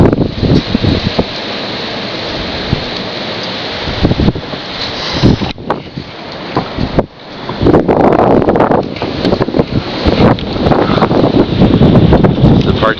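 Strong blizzard wind roars against the microphone in a parking lot, with a steady loud rumble broken by gusts and a brief dip midway. A voice is barely present.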